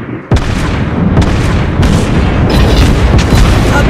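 Heavy booming naval gunfire from the battleship Gneisenau in World of Warships Blitz, several loud blasts in quick succession over a dense rumbling battle din, no talk.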